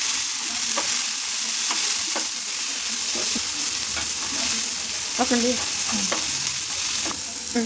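Masala spices frying in a pan for a spiced egg fry, a steady close sizzle with scattered scraping stir strokes and small crackles throughout, no talking.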